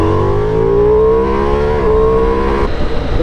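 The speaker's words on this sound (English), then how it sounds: "and then you twist the throttle" Ducati Multistrada V4 motorcycle accelerating hard in third gear from about 40 mph, the engine note climbing loudly and steadily, dipping briefly, then rising again as the throttle stays open.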